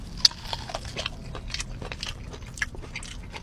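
Crunchy bites into cajun-spiced corn on the cob, with several close, crisp snaps of teeth through kernels and a sharp crunch near the start, followed by quieter chewing against a low room hum.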